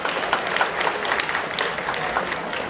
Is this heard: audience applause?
yes